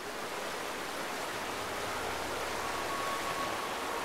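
Steady rushing waterfall in the video game Darksiders II, a soft continuous broadband wash of falling water at low level with no voices.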